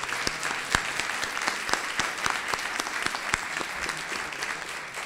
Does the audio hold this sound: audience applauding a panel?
yes